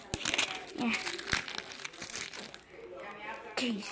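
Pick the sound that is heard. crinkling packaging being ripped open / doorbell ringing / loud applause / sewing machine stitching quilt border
crinkling packaging being ripped open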